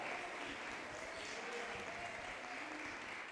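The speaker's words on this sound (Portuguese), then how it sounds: "Aplauda o Senhor." Congregation applauding during a church service, a faint, distant and steady wash of clapping with no distinct individual claps.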